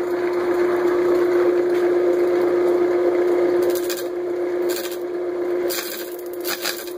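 A segmented pine vase spins on a wood lathe while a turning tool cuts it, making a steady loud hum with a constant tone and rough scraping hiss that shifts as the cuts change.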